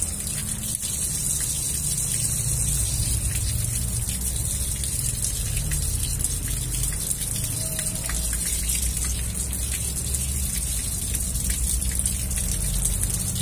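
Water gushes through a car cooling system hose being flushed, a loud, steady rushing splash that continues unbroken throughout with no talk.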